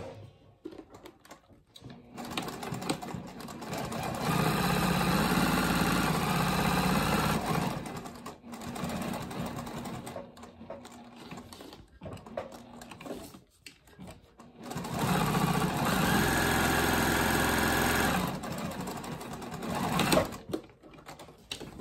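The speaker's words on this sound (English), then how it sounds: "I am going to use contrasting thread and go stitch down my center line" Sewing machine with a size 18 needle and Tex 70 thread stitching a centre line on a cork key fob, two long steady runs of rapid mechanical whirring separated by quiet pauses and small handling sounds.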